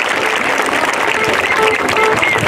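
An audience at a Three Kings Day celebration in Xochimilco claps steadily and loudly, a dense continuous wash of hands with a few raised voices threaded through it.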